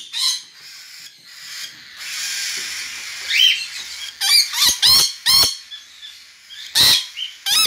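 An Eclectus parrot lets out a series of loud, piercing screams close by, a long harsh call followed by several short shrill shrieks in quick bursts.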